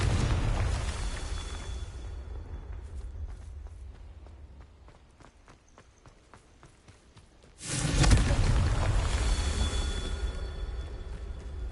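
A Confringo explosive spell blast in Hogwarts Legacy erupts suddenly after a quieter stretch of light footsteps and taps, a loud booming burst that lingers as a heavy rumbling roar.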